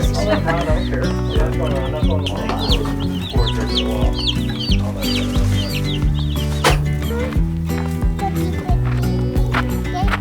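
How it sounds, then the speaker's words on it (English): Chickens cluck while young chicks peep in high, rapid chirps nearby, under steady talking and background sound throughout. "we're going in to check on the chicks"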